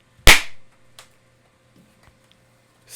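A single sharp, loud pop of a streamer party popper going off after a playoff-clinching Astros game, followed by faint ticks and light rustles in a quiet room.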